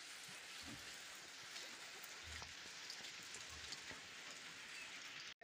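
Steady rain falls outside a goat house, a continuous soft hiss of drops on surfaces with occasional nearer patters, moderate and unbroken throughout.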